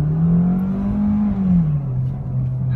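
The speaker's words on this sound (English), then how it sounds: "the car just took off and launch control was engaged" A Ford Focus revving under launch control before take-off, a strong close engine drone holding a steady pitch, rising slightly, then easing down a little, with no voices.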